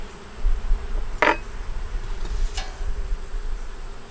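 Bees hum in a double-deep five-frame hive with a super, holding brood, honey and nectar, a low steady buzz close by with a couple of sharp brief knocks, and no speech.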